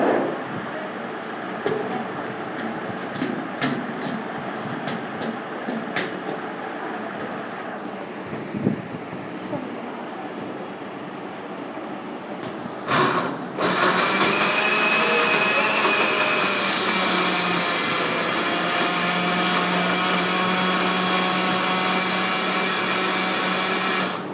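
A blender runs loud and steady as it mixes a strawberry drink, starting abruptly midway after quieter background clatter with faint talk, then holding a dense whirring roar to the end.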